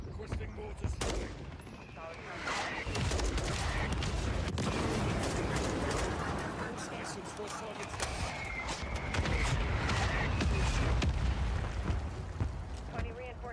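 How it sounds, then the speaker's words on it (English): Mortar strike explosions and gunfire in the Call of Duty: Modern Warfare III campaign, a dense, loud, continuous barrage of booms and rapid shots lasting throughout, with radio-style voices talking over the battle. "Requesting mortar strike."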